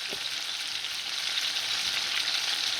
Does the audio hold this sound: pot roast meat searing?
yes